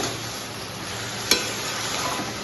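Ridge gourd frying in oil with chopped onion, chilli and black cumin gives a steady close sizzle throughout, broken once by a brief sharp clink of stirring.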